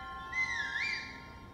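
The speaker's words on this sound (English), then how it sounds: "Stop whistling!" Link whistles in The Legend of Zelda: Breath of the Wild, a single clear in-game tune with a rising and falling pitch that lasts about a second over quiet game ambience, with no talking.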